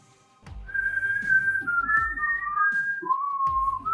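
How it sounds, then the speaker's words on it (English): Someone nearby whistles a wandering, warbling tune, alone and fairly loud, with a few soft knocks underneath. "Why is he whistling?"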